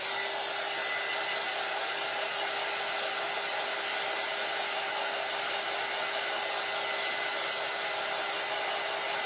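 A hair dryer blowing to dry paint runs loud and steady throughout, a constant close whooshing roar with a faint motor whine.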